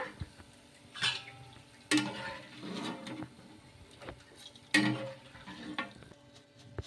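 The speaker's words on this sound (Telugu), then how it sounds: "ఇలా క్రిస్పీగా వచ్చే వరకు ఫ్రై చేసేసుకొని తీసేసుకోవడమే" Snack pieces frying in hot oil until crispy, a steady sizzle broken by sharp clinks and scrapes of a utensil against the pan at irregular intervals, close up with no talking.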